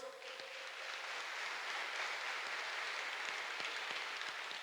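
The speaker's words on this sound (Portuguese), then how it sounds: "Vamos aplaudir a palavra de Deus." A prayer-group congregation applauds in a soft, steady patter of many hands that sounds distant and quiet. The clapping continues for several seconds with a few sharper claps standing out.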